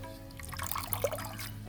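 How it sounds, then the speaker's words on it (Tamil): Cassava leaves being rinsed and washed in water by hand, a brief close sloshing and dribbling with small drips, heard alone over a low background hum. "அலசி கழுவுறோம்மா"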